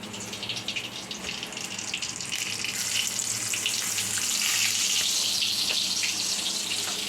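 Pieces of food fry in a kadai with a steady, hissing sizzle that grows slightly louder and stays continuous and close throughout.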